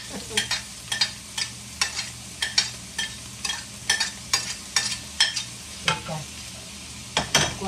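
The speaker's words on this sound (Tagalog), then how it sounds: "Ito, magigisa tayo mga kababayan." Onion, garlic and ginger sizzle and fry in a pan, with repeated stirring strokes scraping at a steady rhythm over a continuous frying hiss, close and moderately loud, no talk.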